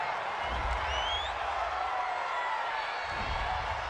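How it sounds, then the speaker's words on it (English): Home crowd at an NFL game between the Browns and Cardinals reacting to a penalty flag, a steady, broad roar of cheering and crowd noise throughout, with low rumbles swelling near the start and end. "This home crowd, they're happy with that call."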